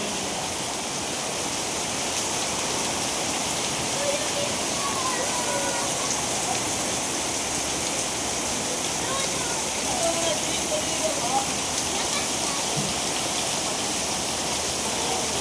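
Heavy rain pours down over the streets of Manila in a constant loud hiss and roar that never lets up, with faint voices buried beneath it.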